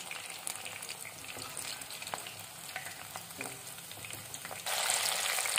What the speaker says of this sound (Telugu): ఇదే ప్రాసెస్లో రిమైనింగ్ వాటిని కూడా ఫ్రై చేసుకుందాం.